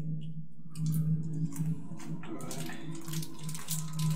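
Water dripping and dribbling deep inside a dark cave ambience for a tabletop RPG session, with a steady low hum beneath and scattered splashy drips and trickles that come and go, faint to moderate.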